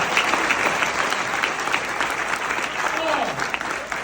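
A live audience at a comedy show in Montréal applauds with dense, continuous clapping that stays loud and close for the whole stretch.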